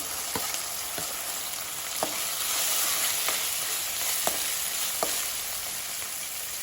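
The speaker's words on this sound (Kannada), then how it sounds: "ಈರುಳ್ಳಿ ಸ್ವಲ್ಪ ಬಾಡ್ತಿದ್ದಾಗೆ ಇದಕ್ಕೆ ಹೆಚ್ಚಿರುವಂತಹ ಟೊಮೆಟೊ ಹಣ್ಣನ್ನು ಹಾಕ್ಕೊಳ್ತಾ ಇದ್ದೇನೆ" Chopped tomato goes into softened onion frying in a pan for vegetable mandakki, a steady hiss of sizzling oil with occasional sharp taps of a spoon stirring against the pan.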